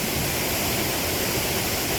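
Artificial waterfall built in a disused mine, completed in 2008, rushing as a steady, loud broadband roar of falling water with no pauses or voices.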